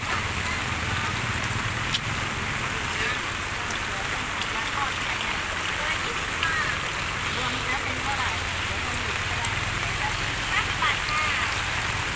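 Morning rain falls steadily, a continuous broadband patter of drops striking surfaces all around at an even level for the whole stretch, with no clear voices over it.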